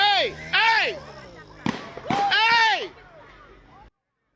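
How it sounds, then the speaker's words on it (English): Two sharp bangs in quick succession ring out near a park at 5th and Burleigh where a concert crowd has gathered, cutting through loud shouting and screaming voices close by. "Then you hear those gunshots."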